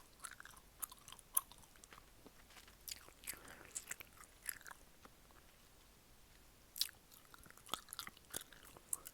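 Gum chewing close to the microphone in a soft-spoken ASMR setting, with wet clicks, squishes and snaps that come in irregular bursts over quiet background hiss, and no talking.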